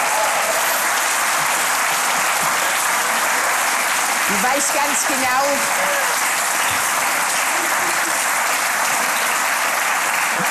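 Steady, dense applause from a TV studio audience during a celebrity quiz show fills the whole stretch, with voices talking and calling out over it midway.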